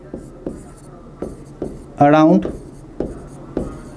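Chalk or marker tapping and scratching on a classroom board in short, regular strokes, with a teacher talking briefly in between.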